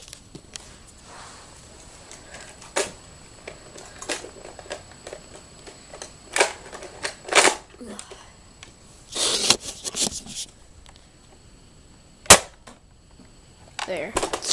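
A Buzzbee rapid-fire toy rifle fires, giving sharp snapping cracks spread out over the clip among softer clicks and handling noises of the toy. No one speaks.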